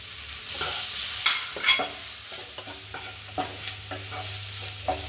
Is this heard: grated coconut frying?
yes